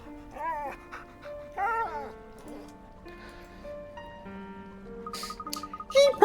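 A man imitates dog noises with his voice, giving a string of whimpering yips and whines that rise and fall, breaking off between calls and ending in a louder burst.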